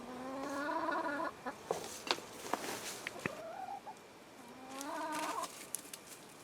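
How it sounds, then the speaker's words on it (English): Three backyard hens in a fall food forest cluck and murmur in short, repeated calls, some rising into drawn-out squawks, fairly close over a quiet outdoor background. "Still got 3 hens."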